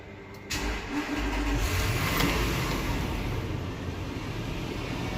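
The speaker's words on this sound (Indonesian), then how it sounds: "yuk langsung kita nyalakan aja mesinnya." A 2001 Toyota Land Cruiser 4.7 V8 cranks briefly on a slightly heavy starter and catches, then settles into a steady, close, loud idle for several seconds.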